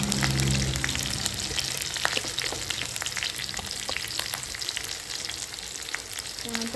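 Green chillies sauté in hot oil with a dense, close sizzle throughout, some light stirring clicks and no talk.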